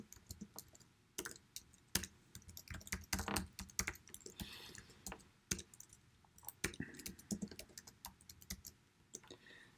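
Rapid clicking of a computer keyboard during text entry in an editor, close and fairly quiet, with irregular bursts of keystrokes and short pauses, no voices heard.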